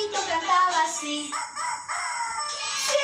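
A rooster crow rings out for about three seconds in a children's story lesson, a rising and falling call, loud and close, most likely a person imitating the bird.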